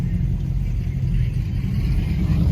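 A Dodge SRT with a loud aftermarket exhaust can idles and rumbles nearby, a deep steady low-end drone with no clear revs over the short stretch.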